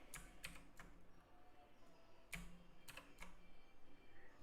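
A keyboard shortcut is typed on a computer keyboard: a few quiet, separate key clicks in two small clusters, faint against a soft room background, with no talk.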